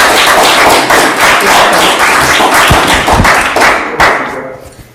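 An audience gives a speaker a round of applause at an evening talk: dense, steady clapping from many hands with a few sharper thumps, loud and close, fading out near the end.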